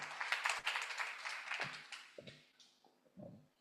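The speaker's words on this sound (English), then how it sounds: "I think we should give Ashley a round of applause" A small group gives a faint round of applause for Ashley during an interview. The quick clapping fades over a few seconds into a handful of scattered claps.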